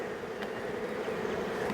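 Honey bees buzzing at a hive, a continuous low droning hum from many bees, steady and moderately close with no voices.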